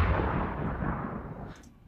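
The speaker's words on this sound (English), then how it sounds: "And a cannon sound." A designed cannon sound effect for a war ambience, a deep booming blast that rolls and decays over about two seconds, heard alone without speech.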